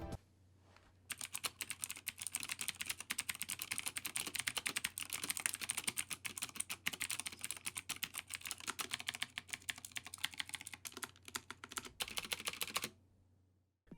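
Rapid, crisp clicking from a Cooler Master MK750 mechanical keyboard with Cherry MX Blue switches, a dense close patter of keystrokes that runs steadily for about twelve seconds before stopping into near silence.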